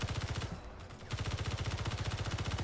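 Rapid automatic gunfire from a gun in the video game Space Engineers, a fast even stream of loud shots that briefly stops and then resumes.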